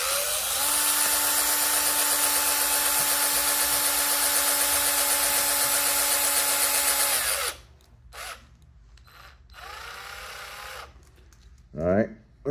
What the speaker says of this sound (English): we're going to turn the drill on, and we're going to make a whole bunch of jump rings